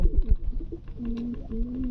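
Satin pigeons coo close by, a few soft, low, rolling calls repeating in a slow rhythm with no talk over them.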